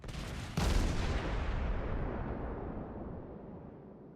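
Naval guns firing ranging shots in a game engagement involving the cruiser Pensacola: one sudden loud blast followed by a long, rolling decay that fades over several seconds.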